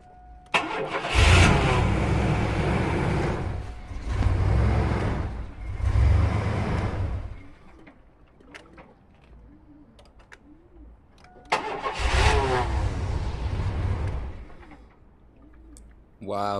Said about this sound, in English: the van is not staying on, but listen to it. It has a cranking power.